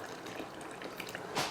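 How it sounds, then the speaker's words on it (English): Boiling hot water poured into a pot of simmering dal for Gujarati dal dhokli, a quiet, soft liquid trickle that swells into a brief louder splash near the end. "Now here I'm going to add a little bit more hot water."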